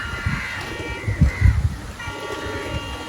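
Racing pigeons coo in low, soft murmurs during a 20/20 pigeon flying tournament, a few throaty bursts standing out against a steady background rumble.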